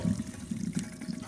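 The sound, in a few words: hot noodles and water poured into a colander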